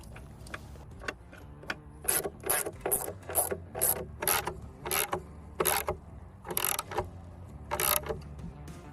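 Bolts, washers and nuts being fastened through a bracket and post into the bottom of a whiskey barrel pot, heard as a run of close, crisp ratcheting bursts in a quick irregular rhythm with short pauses between.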